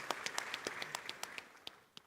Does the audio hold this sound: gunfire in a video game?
no